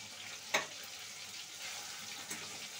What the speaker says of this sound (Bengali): এবার এটা একটুখানি কষাবো